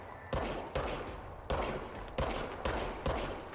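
Service weapon gunfire in the video game Control: six loud, sharp shots at uneven intervals, each with a sudden broadband crack and a rumbling tail that decays before the next round, with no talking.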